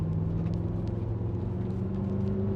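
2012 BMW M5 saloon with a 4.4 V8 and M DCT gearbox accelerating on the road, giving a deep, steady engine rumble and a rising tone, heard from inside the car with no talking.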